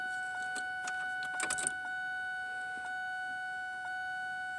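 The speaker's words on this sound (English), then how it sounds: "Let me cycle the key again." A car ignition key is cycled to prime the fuel pump on a car that will not start, with keys jangling and clicking against the steering column over a steady electronic warning chime.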